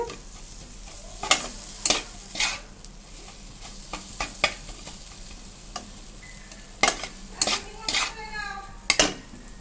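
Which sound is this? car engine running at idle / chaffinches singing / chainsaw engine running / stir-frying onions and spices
stir-frying onions and spices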